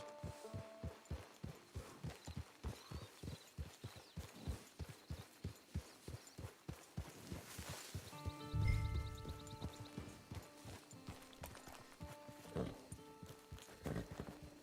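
Horse hooves clip-clop at a steady walking rhythm in the Red Dead Online video game, close and even, joined midway by a brief low thud and soft tonal game sounds with no talking.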